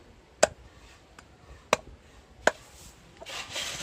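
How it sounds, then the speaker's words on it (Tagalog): Three sharp knife chops on a board, spaced apart, cutting fish for bait, followed by a brief rustle. "hinihiwa-hiwa na ni tata yung aming ipapain na isda"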